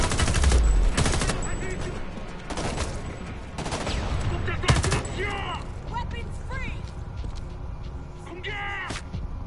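Gunfire in the video game Homefront: The Revolution: loud, rapid bursts of shots and a fusillade of automatic fire, close and punchy, with someone talking over the shooting.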